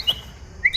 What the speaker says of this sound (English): It's a blue-winged red-tailed blackbird.